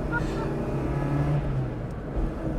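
A Fiat Panda engine drones steadily while driving, a continuous mid-pitched hum from inside the car at moderate loudness with no clear rise or fall.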